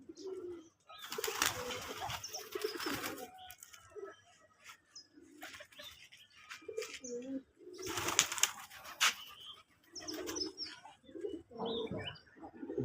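Native domestic pigeons at a pigeon farm: soft, repeated low cooing from several birds nearby, with two bursts of louder rustling and wing flapping in between and occasional faint chirps.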